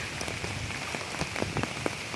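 Steady rain patters on a surface, with scattered louder drops through an even hiss.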